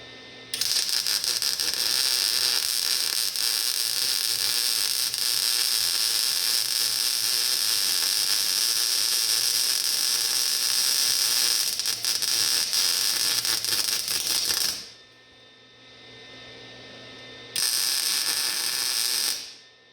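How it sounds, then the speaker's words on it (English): Welding of steel truck setback plates, a loud continuous crackling hiss that runs for about fourteen seconds, stops briefly, then starts again in a shorter burst, close-up with no talking. "Notice the sound of the weld changed."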